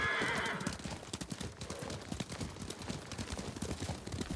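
Horses in the video game Ghost of Tsushima clip-clop at a brisk gallop with repeated neighs and whinnies, a dense rhythmic hoofbeat running throughout with a cry near the start.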